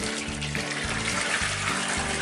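Muriatic acid glugging from a gallon jug into a water bath, a steady continuous pour with rhythmic gurgling pulses as air enters the tipped container, close and fairly loud.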